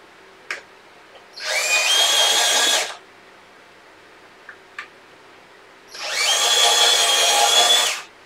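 A power drill fitted with a tiny, short bit bores into wood during woodworking box making, giving two whining bursts of about a second and a half each, close and loud, separated by faint taps and clicks.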